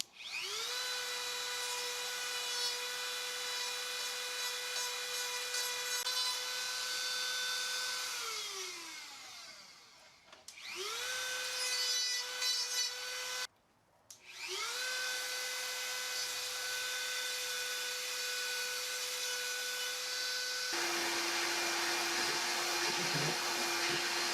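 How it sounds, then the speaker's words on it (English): Handheld Dremel rotary tool grinding and cleaning up cast cement skull decorations, a steady high whine that winds down around ten seconds, restarts twice with short pauses, then shifts to a lower-pitched run near the end. "now I'll just use my Dremel and clean this up just a little bit"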